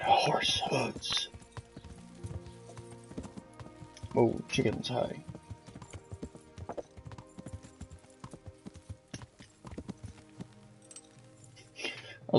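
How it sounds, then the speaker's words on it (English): In the video game Kingdom Come: Deliverance, a horse plods along with rhythmic clip-clopping hooves. Brief bursts of someone talking break in over the hoofbeats now and then. "Horse hooves."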